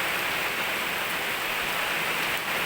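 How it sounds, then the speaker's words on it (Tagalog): Heavy rain falls steadily during Tropical Storm Wilma, with little wind, making a dense, even hiss of downpour that stays constant throughout. "So dili kayo kusog or hangin, but kusog ang ulan."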